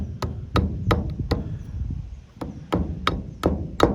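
A series of sharp, bright metallic taps from a small ball-peen hammer on metal, irregularly spaced, close up with a quiet background between strikes.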